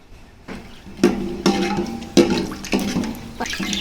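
Onion tips into hot oil with cinnamon and cloves and sizzles up in loud, hissing bursts, mixed with the clatter of stirring in the pan, close and steady.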